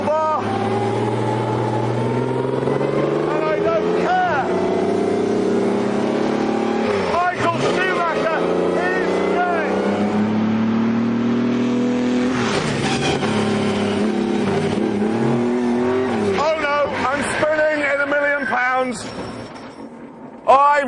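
A Maserati 250F race car engine revs hard and rises and falls in pitch as the car is driven and spun, a loud close mechanical howl with repeated throttle swells, and someone talks over it.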